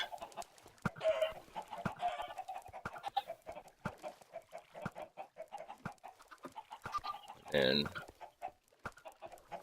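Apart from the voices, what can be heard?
chickens clucking in Minecraft video game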